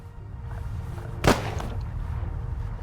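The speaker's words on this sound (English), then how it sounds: "Gunshot! I know that!" A single sharp gunshot cracks out in The Raven Remastered adventure game, loud and sudden against a steady low background hum, then fading quickly.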